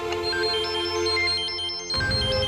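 A mobile phone rings indoors with a steady electronic ringtone melody, clear and continuous, briefly cut off near the end before resuming.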